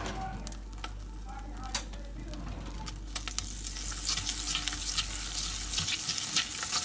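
Butter sizzles steadily in a hot pan with steak juices, a dense crackling hiss with a few sharp pops, growing brighter and louder toward the end.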